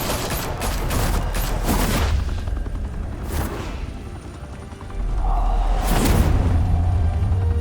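Gunfire in the Batman: The Telltale Series video game, with rapid bursts of automatic shots in clusters, then a pause and a louder booming volley, all close and sharp.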